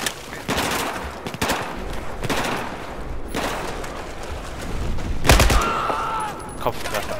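Rapid bursts of gunfire from the video game Battlefield 4, loud and continuous with sharp shot transients, including a heavy blast near the end, the game's weapon sounds dominating throughout.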